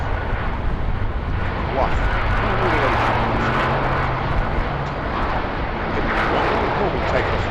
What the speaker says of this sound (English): For those who don't recognise the aeroplane, I can tell you it's a Airbus A330, Airbus A330.